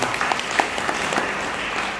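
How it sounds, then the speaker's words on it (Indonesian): Audience applause at an Easter gathering held in a Jombang meeting hall, a dense steady patter of clapping lasting about two seconds, filling the room without speech over it. "Berikan tepuk tangan untuk Yesus"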